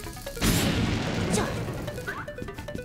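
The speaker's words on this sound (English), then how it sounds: "Here, I should be able to throw a bomb." A bomb goes off with a single loud, sharp blast in The Legend of Zelda: Link's Awakening, followed by a short crashing tail and a few small chiming game tones.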